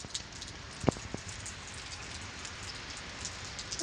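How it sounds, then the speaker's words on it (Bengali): Steady rain patters continuously in Saudi Arabia, fairly soft, with a couple of sharper drips or knocks standing out briefly, while water floods the street. "অনেক বৃষ্টি হয়ে গেছে"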